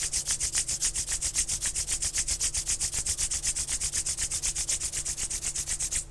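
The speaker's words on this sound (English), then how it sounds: "Now slowly rub your palms." Palms rubbed together during a guided meditation session, a steady rhythmic swishing of close skin-on-skin strokes repeating quickly and evenly throughout, with no talking.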